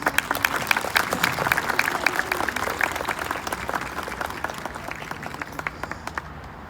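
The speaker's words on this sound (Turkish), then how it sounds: "Onun için bir kez daha tüm arkadaşlarımıza lütfen candan alkışlar mıyız?" An audience at a fashion week design competition show and award ceremony in Bursa claps steadily, a dense, even crowd applause with sharp individual claps throughout, slowly easing toward the end.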